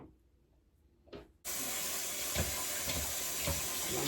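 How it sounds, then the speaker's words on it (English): Thin pieces of raw meat are rinsed under a running kitchen tap, a steady loud rush of water that starts abruptly after a quiet moment of soft handling and continues with small splashing changes. "Now make sure I wash it."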